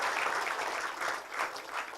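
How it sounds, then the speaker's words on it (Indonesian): Applause from an audience at a gathering, a dense steady clatter of many hands clapping that swells and ebbs over two seconds with no voices. "tepuk tangan untuk Ibu Dwi."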